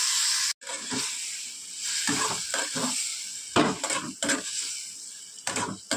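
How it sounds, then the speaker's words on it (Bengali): Prawns sautéed in a pan with cumin-coriander powder, chilli powder and a little water, giving a soft steady sizzle broken by repeated scraping strokes of a spatula. "অল্প জল দিয়ে খুব ভালো করে কষিয়ে নেব।"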